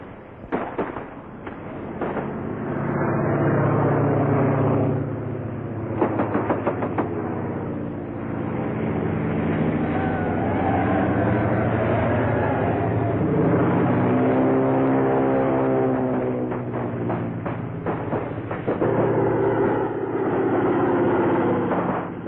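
A constabulary propeller plane flies in a 1938 film, its engine a steady, loud droning roar with wavering, shifting tones and a few sharp crackles, heard through a narrow, muffled old soundtrack.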